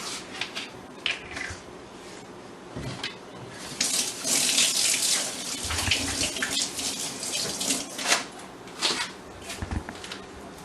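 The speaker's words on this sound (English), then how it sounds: "the first thing always to do is wash your hands" Tap water runs into a sink during handwashing before baking cakes, a steady splashing stream with louder bursts as hands move under it, no talk.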